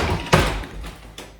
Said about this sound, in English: Yep, door opened.